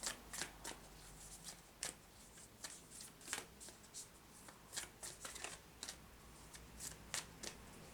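Angel cards being shuffled by hand: repeated crisp riffling and flicking bursts in an irregular rhythm, close and quiet, with no talking.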